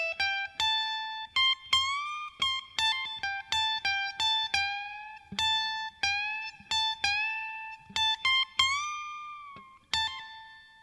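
Electric guitar with effects plays a solo lick at a slower pace, a clear sequence of sustained high picked notes with bends and slides, some repeated, loud and close with no talking.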